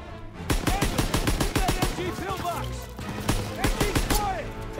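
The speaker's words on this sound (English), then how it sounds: "You gotta suppress the machine gun." Machine gun fire in a WW2 video game, rapid loud bursts of gunshots in quick irregular volleys, close and sharp, with people talking over the shooting.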